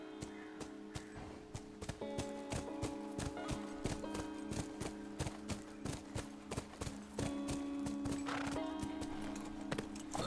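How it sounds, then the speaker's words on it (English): Horse hooves clip-clop in a steady walking rhythm, close and clear, within The Last of Us game, with a whinny, a sustained musical tone and ambient game sound around them. "Let's get off the horse."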